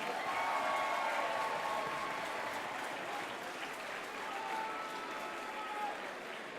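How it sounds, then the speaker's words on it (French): Sustained applause from a crowd at a carnival enthronement ceremony in honour of Jean Fréquin, an even wash of clapping heard at a distance and fairly faint, holding steady throughout. "C'est d'ailleurs l'occasion pour nous tous de l'applaudir pour son passage du côté obscur du carnaval d'Olintois."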